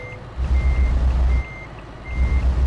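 In Euro Truck Simulator 2, a MAN TGX Euro 6 truck reverses with three evenly spaced electronic beeps over a loud, rumbling engine drone that swells and dips, with no voices.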